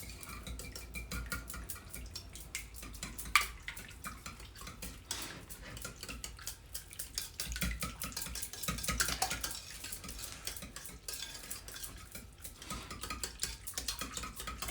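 Buttermilk and three eggs being stirred together in a bowl for fried chicken batter, with a steady run of quiet, close clinks and scrapes of utensil against the dish and no talking.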